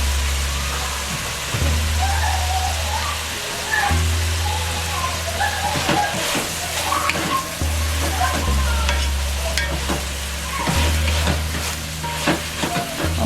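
Food sautés in a pan over medium-high heat for chicken soup, loud continuous sizzling broken by stirring scrapes and clatters, with a low hum beneath.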